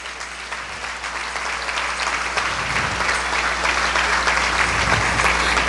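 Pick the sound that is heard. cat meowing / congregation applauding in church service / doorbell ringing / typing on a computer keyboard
congregation applauding in church service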